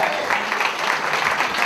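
Audience applause at a comedy live show, steady dense clapping from a crowd filling the short stretch at even loudness.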